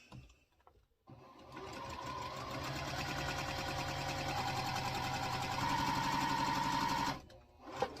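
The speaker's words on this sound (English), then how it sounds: "And we're going to sew those on." A sewing machine stitches quilt block pieces in one steady, fast mechanical run lasting several seconds. It starts and stops abruptly, close and moderately loud, with no talking.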